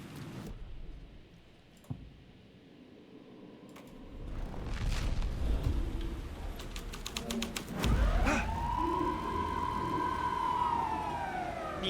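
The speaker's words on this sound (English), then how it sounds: "Nino, Nino, it's the police." A police car siren from the video game Alan Wake 2 rises and falls in smooth, sweeping wails over a rumbling game ambience. It enters partway through and grows clear and fairly loud toward the end, with no talk.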